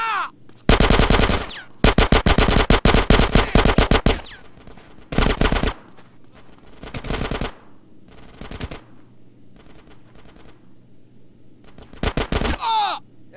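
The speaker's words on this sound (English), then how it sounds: "Get some suppressing fire in there." Machine gun suppressing fire during the GTA San Andreas mission Reuniting the Families: loud, close bursts of rapid shots, several long and some short, separated by quieter pauses, with no talking.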